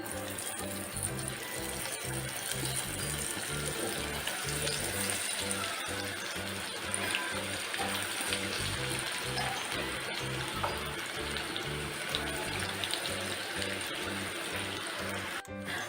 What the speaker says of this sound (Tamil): வச்சுட்டு இதை கொஞ்சம் கொஞ்சமாக எடுத்து உருத்து விட்டுக்கலாம்.